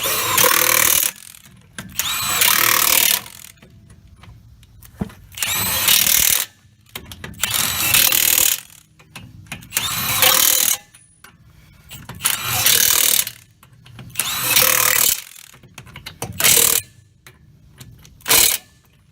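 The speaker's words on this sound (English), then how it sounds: "This impact wrench, yo, if y'all have never used one of them, this one here will twist your wrist" A Milwaukee high-torque impact wrench works on the front brakes of a 1989 Chevy R35 dually pickup, firing about eight loud, hammering bursts of one to two seconds each, separated by short quiet gaps.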